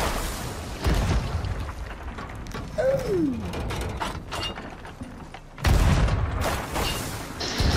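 Ship cannons fire in Sea of Thieves as a few deep, booming blasts with rumbling tails, spaced a couple of seconds apart among creaking, mechanical ship noises.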